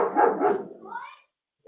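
A dog barks loudly and close by, a quick cluster of barks followed by a brief silence.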